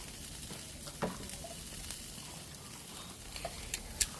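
Precooked potatoes reheat on a grill alongside T-bone steak, giving a soft continuous sizzle with a few sharp pops and crackles scattered across it, fairly quiet and close.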